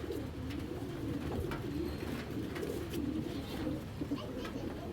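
Pigeons coo continuously at a bird market, a dense, steady murmur of low throaty calls from many birds close by, with a few faint chirps and no clear talk.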